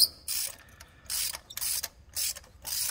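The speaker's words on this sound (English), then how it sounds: "got the ratchet in there. Get the spark plug loose." Ratchet loosening a spark plug on a 2019 Ford F-150 2.7L EcoBoost engine, four or five quick close bursts of rapid clicking with short pauses between them.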